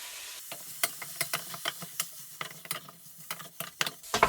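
Chili-spiced meat fries quietly in a pan while a spoon stirs it, making repeated sharp scrapes and clicks in an uneven rhythm over a soft sizzle.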